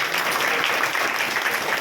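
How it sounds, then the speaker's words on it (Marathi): Listeners at a kirtan in the Muktेश्वरी temple in Belora, held for the Navratri festival, break into brief, dense applause that fills the whole moment with a close, even roar of clapping. "सर्वांसाठी जोरदार टाळ्या वाजल्या"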